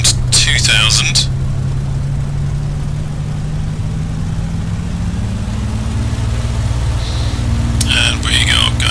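A P-51D Mustang piston engine in the A2A flight simulator drones steadily and loudly throughout, its pitch sliding upward midway as RPM is raised, with brief voices near the start and end.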